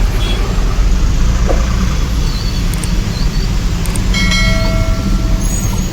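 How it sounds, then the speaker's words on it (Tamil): Heavy, congested road traffic crawling along a service road near Red Hills, Chennai: a constant close rumble of engines, with brief horn beeps and squeals rising over it partway through. "நல்ல டிராஃபிக்"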